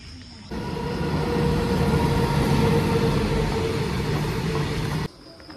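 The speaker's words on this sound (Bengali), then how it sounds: "আর এই হচ্ছে ট্রেন" A train runs at night in a continuous loud rumble with steady engine and wheel drone that rises in and then cuts off abruptly.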